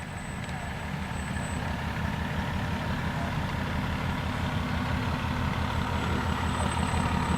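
A fire truck rolls along in a Memorial Day parade, its engine giving a steady, loud low rumble and idle throughout, with no speech over it.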